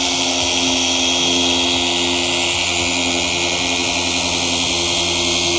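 Machine sanding of a BMW headlight lens with 2000-grit paper, a steady loud whirring drone with a faint periodic ticking, running alone without talk.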